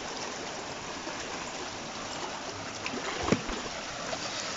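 Water rushes steadily through sluice gates on an irrigation channel in Villa de Soto, a continuous broadband outdoor flow with a brief louder splash near the end.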